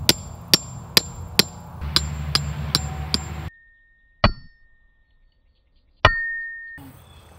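A hammer strikes 18-inch steel rebar being driven into a garden bed, giving sharp metallic clangs in a steady rhythm at first, then two isolated ringing hits separated by near silence.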